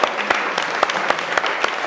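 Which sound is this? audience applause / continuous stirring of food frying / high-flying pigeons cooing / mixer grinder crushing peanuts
audience applause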